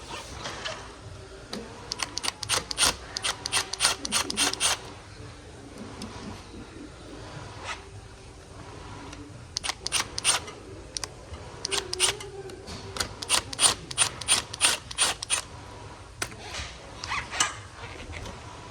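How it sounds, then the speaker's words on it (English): A Phillips bit drives screws out of an Aeron chair knob, with bursts of rapid clicking ratchet-like rattles separated by short pauses, close and moderately loud. "Just gonna take a Phillips bit and remove those."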